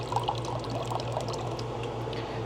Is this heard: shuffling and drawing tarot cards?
no